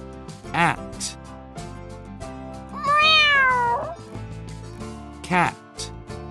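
A single drawn-out cat meow rises and falls in the middle, loud and clear, set among other short tones and voice sounds.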